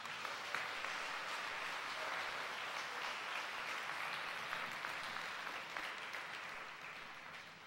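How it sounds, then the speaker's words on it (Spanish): Steady applause from a large crowd fills the whole stretch, dense and continuous, fading slightly toward the end with no speech. "Denle un fuerte aplauso al Señor."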